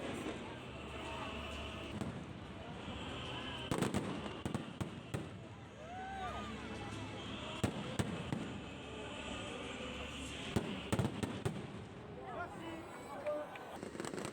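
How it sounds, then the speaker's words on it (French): Fireworks launched from the Pépinière park crack and pop repeatedly over a packed Place Stanislas, with whistling rockets and sharp bursts over a constant crowd murmur and the Marseillaise playing. "Là, on est sur la place Stanislas pour assister aux feux d'artifice qui sont tirés de la pépinière."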